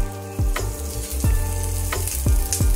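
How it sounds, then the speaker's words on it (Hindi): Sliced onions fry in a pan for biryani gravy, a steady loud sizzle broken by several sharp stirring scrapes that come in a rough rhythm, close up and with no talk. "सुनहरे कलर आने तक आपको ऑनियन फ्राई कर लेना है।"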